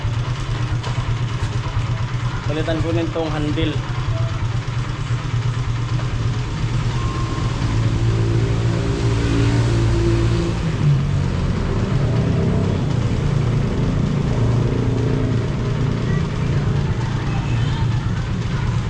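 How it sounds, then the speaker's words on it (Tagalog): A water pump engine warms up and runs at a steady idle, its continuous low rumble filling the whole stretch, while someone talks over it nearby. "painit mo ng makina"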